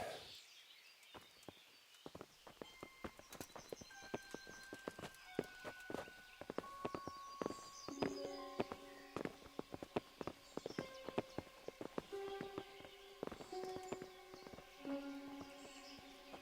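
Horse hooves clip-clop in a quick, uneven rhythm, several animals moving together, with sustained musical tones ringing underneath, in the video game Kingdom Come: Deliverance.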